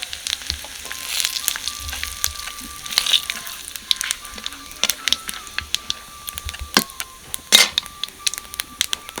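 Bay leaves and whole cumin seeds crackle in hot oil in a wok, with scattered sharp pops and sputters, close and steady. Nobody talks.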